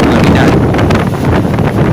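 Loud, strong typhoon wind buffets the microphone in a constant rushing roar, with gusty surges throughout.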